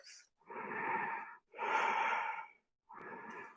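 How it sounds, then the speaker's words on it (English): Slow, deep breaths during a yoga stretch: three long airy breaths in and out, each about a second long with brief pauses between, close and soft, with no talking. "2 more breaths."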